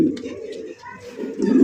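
Rasgolla pigeons, one chocolate and one red, coo close by in soft, throaty bursts. The low, rolling calls rise again near the end of the short stretch, with a faint voice in the background.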